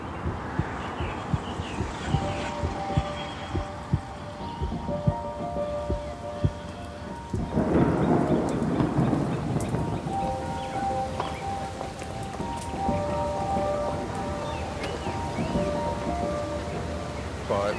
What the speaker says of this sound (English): it was absolutely torrential rain